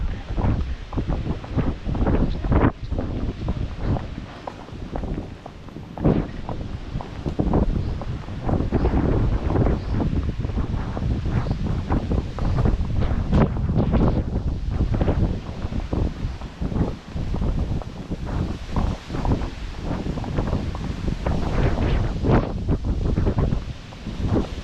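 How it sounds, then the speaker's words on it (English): Strong gusts buffet an outdoor microphone without letup, a loud broadband roar with rumbling low-end thumps, near a horse-drawn cob or Gypsy Vanner on a stable outing; no talk. "Oh, this is like a wind tunnel."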